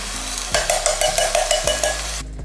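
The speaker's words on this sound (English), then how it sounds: "Then I want to put my coconut milk in." Coconut milk pours into a hot pan of sizzling chili, giving a steady frying hiss with a run of soft rhythmic stirring or pouring pulses, then the sizzle fades out at the end; no talking.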